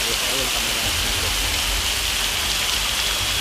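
Rushing water at the Curug Cikoneng waterfall on Gunung Guntur sends up a loud, steady, broadband roar that fills the whole stretch without a break, with a faint voice murmuring underneath.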